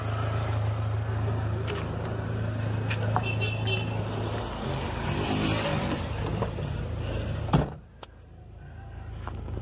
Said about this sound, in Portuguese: Marcha lenta do carro perfeita, perfeita.